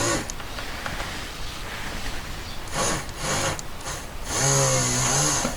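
A small ball burr drills through metal for a jewelry stone setting, a close whirring grind that comes in short bursts and rises to a sustained, louder whine near the end.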